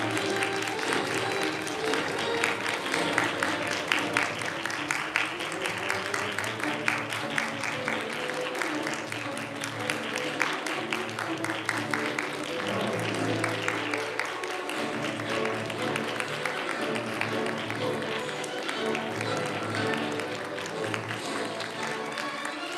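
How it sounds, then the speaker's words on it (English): An audience in a contest hall applauds as judges enter, steady sustained clapping from many people filling the whole stretch, fairly distant, with faint voices underneath. "And welcome the judges with a warm applause."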